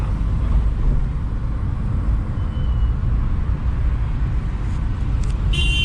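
Steady low engine rumble and road noise from a Hyundai Santro Xing car driving, continuous throughout with no voices.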